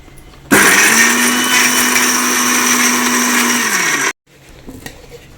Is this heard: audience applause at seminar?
no